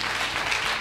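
A church congregation claps and applauds in steady, continuous applause for a brief moment, filling the room without any voices above it.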